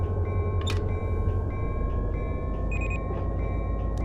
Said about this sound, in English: A couple of sounds of the horn and the bell just indicate the train is starting to move.